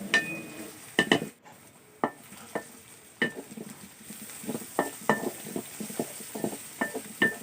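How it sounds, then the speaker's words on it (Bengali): Onions and green chilies fry in oil in a pot, giving a soft sizzle broken by sharp, irregular clinks and scrapes of a utensil stirring against the metal. The sound is close and there is no talking. "এগুলোকে কিছুক্ষণ আমি ভেজে নেব।"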